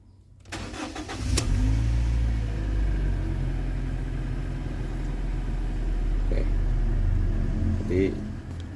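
A car fitted with a coil booster is cranked by its starter and fires up. A loud catch is followed by a steady, rumbling idle close by, with faint voices in the background.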